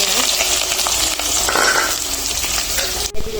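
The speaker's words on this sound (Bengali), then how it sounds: "তেলটা গরম হয়ে গেছে আমি এখন দিয়ে দিচ্ছি" Whole spices such as cardamom, cinnamon, cloves and bay leaf frying in hot oil, giving a loud steady sizzle close by, with a short clatter near the end.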